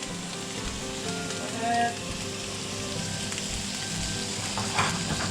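Bacon sizzles and fries steadily in a pan for a fried cabbage and corned beef hash dish, a dense crackling hiss throughout with a brief louder flare, while a voice speaks briefly.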